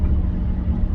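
A loud car engine idles in a low, steady rumble, heard close and alone for about one second.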